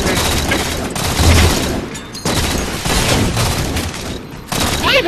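Rapid bursts of gunfire in a video game, loud dense volleys broken by brief gaps, with an excited voice shouting over the shots.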